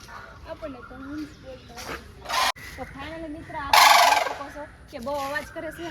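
A large bird at Sakkarbaug zoo in Junagadh gives repeated loud, gobbling calls in bursts, close by, with people talking in between.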